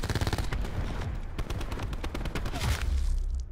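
Rapid gunfire rattles in dense, close bursts during a Black Ops 4 multiplayer match, loud and nearly unbroken across the whole stretch.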